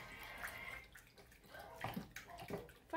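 Gelatin being mixed with hot and ice-cold water in a home kitchen, heard as quiet sloshing and swirling liquid with small splashes and a louder stir near the end, no one talking.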